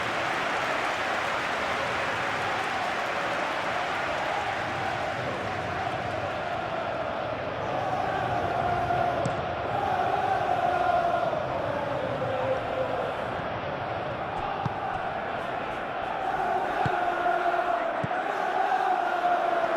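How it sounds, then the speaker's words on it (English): A stadium crowd in the football game PES 21 roars and applauds in a dense, steady wash of cheering that swells slightly midway and holds for the whole stretch. "that's the response the crowd were looking for, Peter, and it's applause all round us here"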